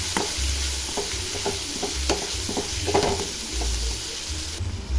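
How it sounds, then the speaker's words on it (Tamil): Tomatoes sautéing in a pan for a chicken kulambu, giving a steady sizzle broken by repeated clinks and scrapes of a spoon stirring against the metal and low handling thumps, with no voices. "இப்போ தக்காளி கொஞ்சம் வதங்கி வந்துடுச்சு"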